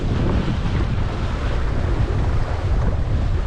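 Strong wind buffets a Laguna-Kombi+ sailing dinghy out on the water, a dense, roaring rush of gusts against the microphone with waves blended in, steady and loud throughout.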